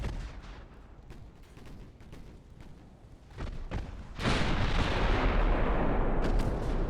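Heavy naval guns boom in a battleship game, several deep thumping shots in quick succession followed by a loud sustained roar of rumbling gunfire and explosions.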